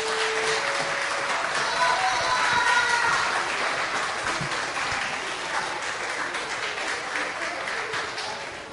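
An audience at the Lucca Games 2013 award ceremony applauds steadily throughout, a dense wash of clapping that stays loud and slowly tapers near the end.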